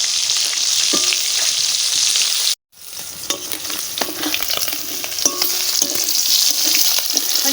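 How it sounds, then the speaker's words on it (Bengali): Singhi fish frying to a reddish crisp in a pan at an outdoor cooking spot, a loud steady sizzle with brief stirring clinks and a short silent break partway through. "শিঙি মাছগুলো সুন্দর লাল লাল করে ভেজে নিচ্ছে"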